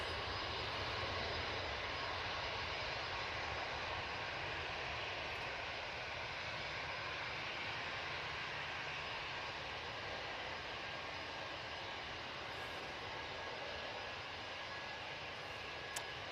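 The engines of a Boeing 737 MAX 8 at Manchester Airport give a continuous, even roar that stays at a constant level, heard at a distance with no voices.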